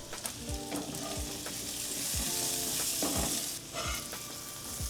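Carrots with thyme and a little sugar fry in a pan, with a steady loud sizzle, repeated spoon scrapes and stirring strokes, and no voices.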